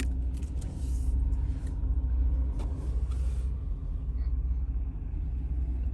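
Heavy dump trucks and large roll-off trucks rumble at a landfill, a deep continuous engine drone with idling diesel and occasional clanks and hiss, fairly close, without talk.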